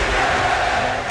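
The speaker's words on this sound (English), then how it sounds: "you hear the crowd is chanting to the Sixers, beat LA" Boston basketball crowd at the end of a game, chanting for the Sixers to beat LA. A dense, steady wall of massed voices fills the whole short stretch.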